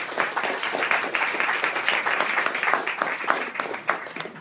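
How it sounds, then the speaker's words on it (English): An audience at an exhibit talk applauds the funders, a dense, sustained round of clapping that fills the room for several seconds. "I think they need a round of applause."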